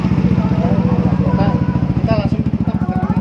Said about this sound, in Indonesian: Ini kita coba nyalain dulu ya, motornya ya. Kita nyalain dulu.